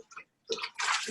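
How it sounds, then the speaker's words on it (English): Hands rinse under running water, with short bursts of splashing flow and a brief pause between them, close and fairly quiet. "I've got to rinse my hands again."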